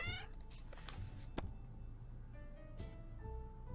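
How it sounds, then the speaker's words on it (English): A cat meowing in the 60 Seconds survival video game, a few short, faint mews over a quiet background hum with soft game sounds, no talking. "The cat's back!"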